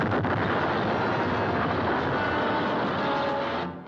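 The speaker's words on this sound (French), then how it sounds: "Une explosion." A big explosion sound effect from a 1960s undersea adventure TV series, a dense, roaring blast that rumbles continuously for a few seconds before trailing off, loud and with no voices.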